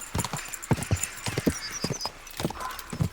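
Horses galloping hard in a race in the video game Kingdom Come: Deliverance 2, a rapid uneven drumming of hoofbeats close by with a faint neigh, no talk.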